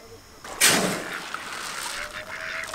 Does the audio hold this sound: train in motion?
no